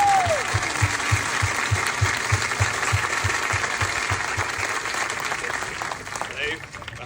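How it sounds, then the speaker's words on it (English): Crowd applause at the grand opening of the Kid Flash Cosmic Coaster at Six Flags Over Georgia, a steady broad wash of clapping with a low rhythmic engine-like thump pulsing underneath throughout. "let's please give a big round of applause for all the men and women that built this ride and made it happen"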